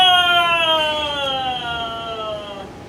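A voice mimics a tornado siren with a long, loud, wailing tone that slowly falls in pitch over about three seconds, rich in harmonics and steady like a sustained howl.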